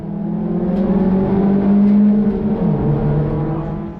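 A race car at Winton circuit blazes past, its loud engine note rising and then dropping in pitch as it goes by, under the steady drone of the driver's own engine.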